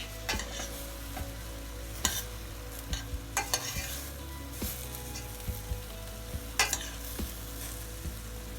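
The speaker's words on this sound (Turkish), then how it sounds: "Bir güzel karıştırıyoruz." A spoon stirs a spinach and lentil stew in a cooking pot, making repeated scraping clinks against the metal over a steady sizzle and bubbling, close and fairly loud with no talking.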